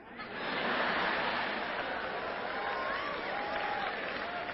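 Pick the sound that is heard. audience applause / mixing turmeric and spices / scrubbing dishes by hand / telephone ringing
audience applause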